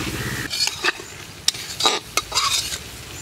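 Cumin paste being stirred and fried in a pan during village fish cooking, soft scraping strokes of a spoon against metal over a faint sizzle, close and intermittent, no speech.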